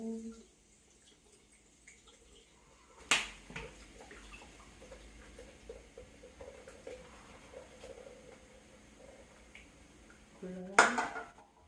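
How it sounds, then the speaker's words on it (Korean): Cola cans cracked open and poured into a glass pot for hot lemon cola tea, with two sharp metallic pops and clinks amid quiet kitchen clatter of dishes and cutlery. "이렇게 저 유리 포트에 콜라 땄습니다"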